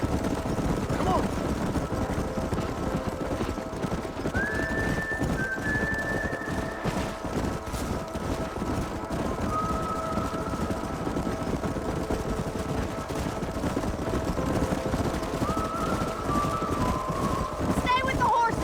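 Horses in the Western video game Red Dead Redemption trot and gallop with steady clip-clop hoofbeats and an occasional whinny, set against a continuous bed of game music and ambience, with a voice talking over parts of it.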